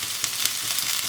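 Onions sizzling in a pan while a lunchbox recipe is cooked, a steady close hiss of frying with faint stirring scrapes and no voices.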